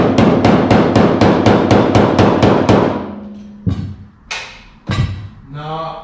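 A body hammer taps a metal car body panel on a Suburban being sanded: a quick, even run of about ten loud, close raps, then a few separate, heavier knocks after a short pause.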